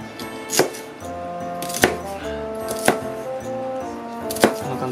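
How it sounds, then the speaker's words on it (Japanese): A knife cuts bacon on a cutting board with four sharp, separate chops spread at uneven intervals, close and clear over a quiet background hum, without talking. "まずベーコン切ります。"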